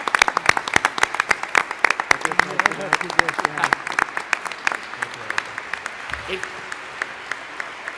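A room of people at a Canadian federal ministers' announcement on gender equality funding breaks into a full, steady round of applause. Dense clapping runs for several seconds, with voices underneath, before thinning to scattered claps.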